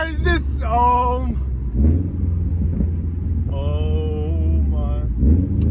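A Subaru WRX STI with a catless downpipe revs its turbo engine, giving a loud rising whine and growl in two separate bursts, with rumble between them and voices shouting over it.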